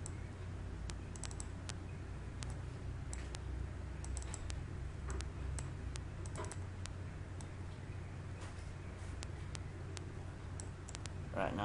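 Sparse computer mouse clicks during 3D modeling work in Autodesk Maya 2013, single sharp ticks scattered irregularly over a steady low hum, close and fairly quiet.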